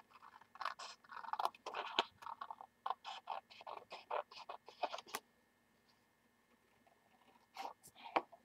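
Small scissors snipping through a printed paper pattern, a quick run of crisp close cuts, then a pause and a few more snips, quiet with no talk over them.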